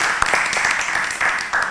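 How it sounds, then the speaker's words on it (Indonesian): Audience applause for Pak Wawan at an event: a brief, moderately loud patter of clapping hands from a room of people, with no speech. "Tepuk tangannya untuk Pak Wawan"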